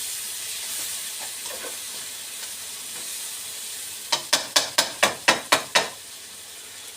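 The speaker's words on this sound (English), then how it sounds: "Maybe I'll just mix it and let it stir it and cook it for another couple of minutes." Browning onions sizzle and fry in a pan for a lamb curry, a steady soft hiss with faint stirring, followed by a quick run of about eight sharp, evenly spaced scraping clicks near the end.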